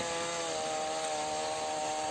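A small chainsaw with an 11.5-inch bar runs at steady high revs while cutting tamarind wood, giving a continuous close, loud buzzing drone with no pauses and no voices.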